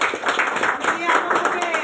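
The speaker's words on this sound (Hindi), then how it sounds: "विशेष करी ताली मारतो" Group clapping at a panchayat-level blood donation camp, a brief burst of many hands patting together, moderately loud, mixed with voices talking over it.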